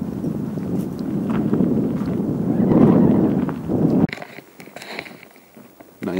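Steady blustery wind rumbles and buffets the microphone, easing partway through to a quieter outdoor hush with faint rustling.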